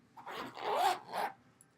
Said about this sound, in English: Just zip it, and then you go like this, and nothing falls out.